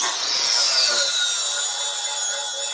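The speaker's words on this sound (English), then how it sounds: "So that's 20, 30 seconds of grinding, and you can see how fast it takes it off with a 40 grit" An angle grinder fitted with a 40 grit disc grinding metal during a DIY bale unroller build, a steady, loud high-pitched whine and abrasive rasp held without a break.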